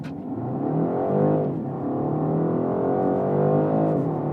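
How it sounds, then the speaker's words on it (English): A front-wheel-drive BMW 128ti launches hard from a standstill using launch control. Its engine note climbs steadily, dips briefly at a gear change, then rises again, heard loud from inside the cabin. "It's nice that this car has launch control. Left on the brake, right on the gas."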